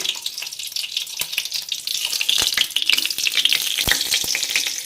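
Mustard seeds and onion fry in hot homemade ghee, a close, bright steady sizzle broken by sharp popping crackles as the seeds burst, with no talk over it.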